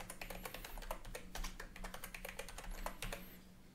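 Someone types a password on a computer keyboard, a quick run of soft, close key clicks in an irregular rhythm for several seconds with no talk.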